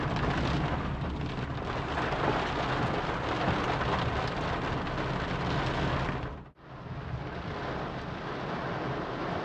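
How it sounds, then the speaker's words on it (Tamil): Heavy rain pours down in a dense, continuous roar in Achankovil, Kerala, close and loud throughout, with one brief dip midway. "இது மழை பாருங்கள் பயங்கரமாக பெஞ்சிகிட்டு இருக்கு"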